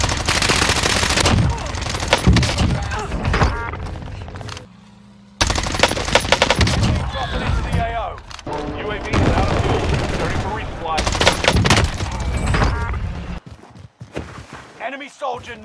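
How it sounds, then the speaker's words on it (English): Bursts of machine gun fire in the shooter game Call of Duty: Warzone, loud rapid volleys repeating in several long strings with brief gaps, mixed with player voices talking over the gunfire. "I'm taking fire!"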